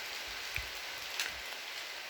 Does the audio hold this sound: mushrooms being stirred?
no